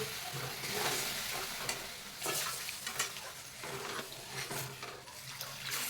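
Gram flour dry-roasting in a pan for Maharashtrian pithla, a soft continuous scraping and stirring with faint sizzle and rhythmic scrapes of a spoon, fairly quiet, with no voices.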